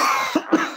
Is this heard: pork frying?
no